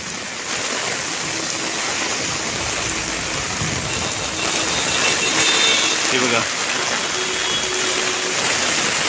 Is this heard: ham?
no